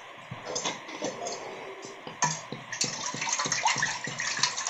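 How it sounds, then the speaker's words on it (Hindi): Water poured into a vessel of freshly churned homemade butter, a steady close splashing and gushing with a few light knocks and taps against the container; no one talks. "देखिए इसमें पानी डाल देते हैं।"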